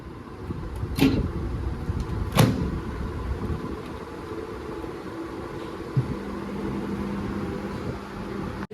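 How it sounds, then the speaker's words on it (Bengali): A microwave oven heating chicken and quinoa pet food gives two sharp clicks from the door and buttons, then settles into a steady low electric hum that continues to the end. "এটা এখন মাইক্রোওয়েভ করব"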